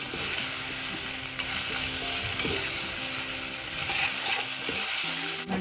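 A spice tempering crackles in oil over low heat while being stirred, with a steady close sizzle, repeated scraping strokes of the spoon and occasional light clinks against the pan.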